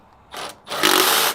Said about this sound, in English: we're drawing the assembly down with a 3/8 impact